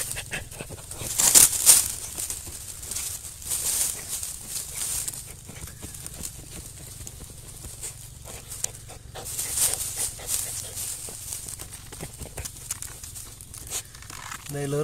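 Hunting dogs dig in forest ground, with scraping, rustling dirt, leaf crackle and heavy panting close by, in uneven bursts while someone talks over them.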